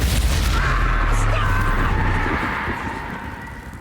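A Confringo fire-blast spell in Hogwarts Legacy, a loud, close booming explosion with a rumbling low roar that fades gradually over a few seconds amid combat noise.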